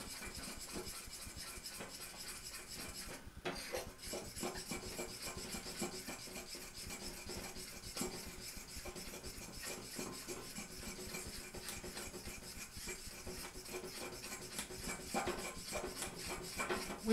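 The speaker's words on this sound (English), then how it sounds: "Whisk your egg in." A whisk scrapes rapidly around a bowl, beating egg and then flour for a nougat chocolate pancake batter, a continuous rhythmic metallic rasping that stays close and fairly quiet throughout.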